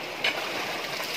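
Water washing sand down a sluice while panning for gold, a steady, close rushing and trickling wash of water that stays even throughout with no voices.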